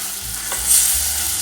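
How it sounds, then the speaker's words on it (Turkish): Tomato paste and couscous-shaped pasta fry in a hot pan, a close steady sizzle with a soft scrape of stirring partway through and no voices. "Böyle kavurarak yapıyorum bunu."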